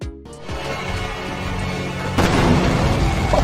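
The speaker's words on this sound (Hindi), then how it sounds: "यही वजह है कि केन के पायरो से धमाके जैसी आवाज आती है।" A WWE wrestling entrance concussion pyro goes off in a deep booming blast, first a sharp crack and then a sudden loud surge of heavy rumbling that rolls on through the rest of the moment.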